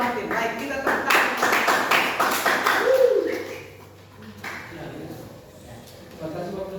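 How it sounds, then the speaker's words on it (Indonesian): Students in a classroom clap their hands together in a rhythmic burst of sharp, evenly spaced claps for about three seconds, then it fades into quieter room sound with faint voices. "kita tepuk tangan"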